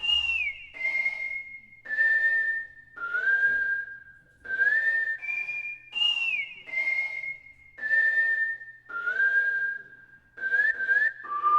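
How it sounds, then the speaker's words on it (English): A whistle one-shot sample named Lost, played in FL Studio, carries a solo melody of clear pitched whistled notes with short slides between them. The phrases are evenly spaced and repeat, with no other sounds. "As for this whistle sound, it's basically just a one shot called Lost."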